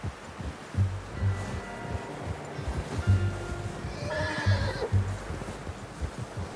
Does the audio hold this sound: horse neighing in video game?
yes